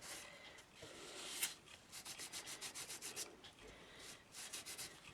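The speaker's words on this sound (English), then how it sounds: "I'm just going to apply a little bit with my finger. As you can see, as soon as you rub it on" Metallic wax rubbed onto a frame surface with a fingertip, heard as soft, close, rhythmic scuffing strokes that repeat steadily in a quiet room.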